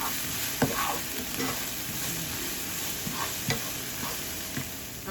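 Tomato sauce for a skillet lasagna bubbles and sizzles as it cooks down in a skillet, a steady close hiss broken by occasional soft taps and clicks of a utensil.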